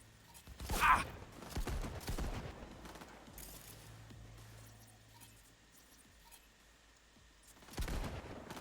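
Gunfire in Cyberpunk 2077, scattered sharp bursts of shots and mechanical clatter with quieter stretches between, louder volleys near the start and again at the end.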